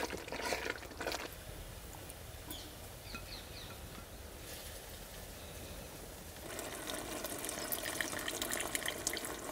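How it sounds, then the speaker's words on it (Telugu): Saffron water poured into ash gourd halwa cooking in a pan, a soft trickling splash in short bursts with quieter stirring gaps between, faint and close-up without any talking. "ఇప్పుడు కుంకుమ పువ్వు నీళ్ళు పోసుకుందాం"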